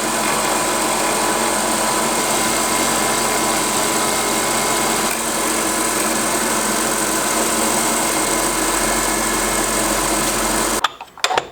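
Milling machine with a carbide end mill cutting into a plastic Game Boy case, a constant high motor whine and cutting buzz that runs steadily before stopping abruptly near the end, followed by a few clunks.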